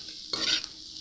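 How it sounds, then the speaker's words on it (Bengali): A spoon makes one short scraping stir through chopped fried egg and chowmein mix in a hot pan, giving a brief sizzling swish. "এবার ভালো করে একটু সবগুলোর সাথে একটু মিশিয়ে নেব।"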